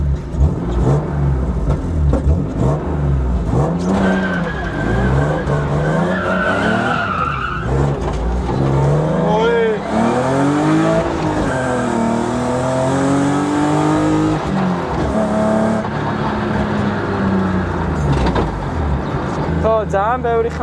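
An old, worn BMW with many rattles from the rear idles and revs repeatedly, its engine note rising and falling in loud, close sweeps throughout.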